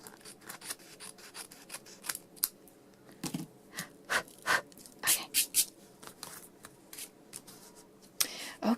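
Scissors trimming excess paper off a collaged vintage-style tag, a series of close, crisp snipping cuts in uneven bursts, growing quicker toward the end, with no talk over them.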